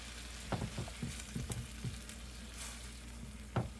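Half a cup of vegetable stock simmers and deglazes a pan used for searing salmon, giving a soft, low bubbling sizzle with a few light utensil taps and scrapes scattered through it.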